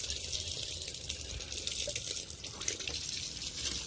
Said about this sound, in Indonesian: Langsung kita kasih air dingin, teman-teman. Bisa pakai air kran seperti ini.